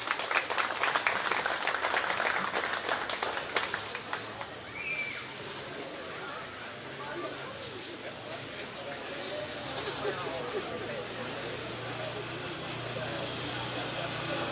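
At a county fair 4-H sheep and goat show, the crowd gives the three young exhibitors a round of applause. The clapping is strongest at the start, then fades into a murmur of crowd chatter and a voice over the speakers.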